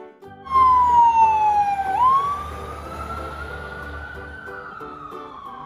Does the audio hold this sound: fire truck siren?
yes